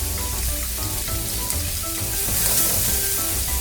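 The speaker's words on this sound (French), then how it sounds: "je vais remettre une pointe de beurre pour mes oignons, que je vais faire légèrement colorer" Onions brown in a little butter in a pan, giving a close, continuous sizzle with fine crackling and no talk.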